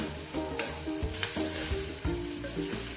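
Elephant foot yam and onions coated with turmeric and salt sizzle steadily in hot oil, with repeated scraping strokes as they are stirred, close and alone without any voices.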